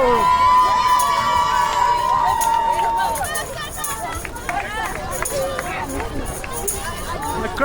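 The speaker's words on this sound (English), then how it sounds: "The crowd cheer, guys." A roadside crowd cheers and shouts as runners pass during the Comrades Marathon, loud and close, with a sustained whistle or horn tone at first and busy mixed voices, footsteps and chatter afterward.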